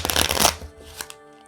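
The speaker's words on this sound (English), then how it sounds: "So let's shuffle the deck and see what happens." A deck of playing cards is shuffled up close for a tabletop game: a loud riffle of rapid flutter that fades into a few softer taps, with no voices.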